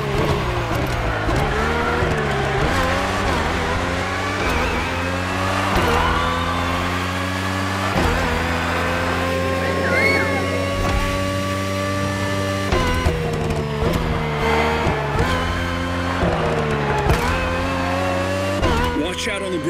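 The Red Bull RB18 race car with its Honda engine roars steadily in The Crew Motorfest, its engine pitch climbing and dropping through gear changes, loud and continuous with faint tire noise.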